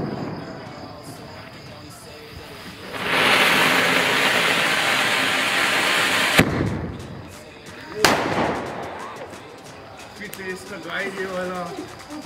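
A Diwali firecracker fizzes loudly for a few seconds after being lit, then pops sharply twice in quick succession. Voices talk quietly before and between the bursts.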